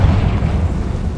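A Confringo fire-blast spell explodes in a Harry Potter video game, a loud, close, rumbling boom that fills the whole brief moment.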